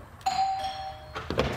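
A doorbell in a newly bought house rings out loud and close, a two-tone chime with a long ringing tone followed by a second strike, alone in a quiet room.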